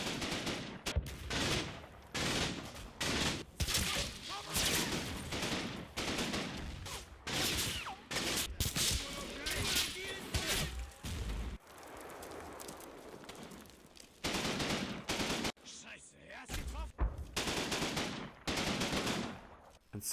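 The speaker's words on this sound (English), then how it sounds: "At the northern end of the field, a German heavy machine gun is spotted." Heavy German machine gun fire in the Combat Mission: Battle for Normandy wargame, with repeated bursts of rapid shots filling the scene, some loud and near, others more distant, across a sustained battle with no talking.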